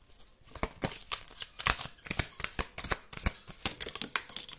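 Cards are shuffled up close in a series of quick riffling bursts and snaps, a rapid crisp rhythm over a few seconds with no talking.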